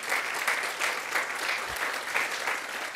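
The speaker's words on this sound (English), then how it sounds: "If we just give them a brief round of applause," Brief round of applause from an audience at a hospital groundbreaking ceremony, steady clapping throughout at moderate distance with no voices over it.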